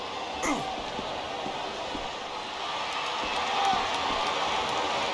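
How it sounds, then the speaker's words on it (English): Roaring capacity crowd at a WWE Hell in a Cell wrestling match, a dense, sustained wall of cheering and noise with brief whistles and shouts rising out of it. "It sounds like this capacity crowd has something on their minds"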